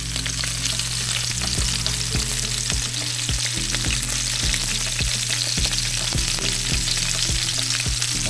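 Salmon fillets sear in a hot pan, making a loud, dense, continuous sizzle and crackle with regular spattering pops throughout, close up and with no voices.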